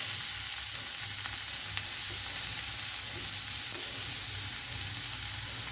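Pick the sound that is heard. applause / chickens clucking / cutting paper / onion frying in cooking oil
onion frying in cooking oil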